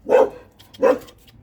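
A dog barks twice, loud and close, with a short pause between the two sharp woofs.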